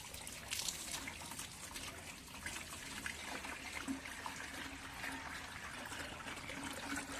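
Water runs and trickles steadily while a kitchen strainer is washed, a continuous close splashing flow with no voices over it.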